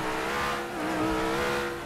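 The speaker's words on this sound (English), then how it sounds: "This is a loud ass V12." A loud V12 car engine in a GTA roleplay game holds a steady, droning rev with a slight dip and swell, close and alone.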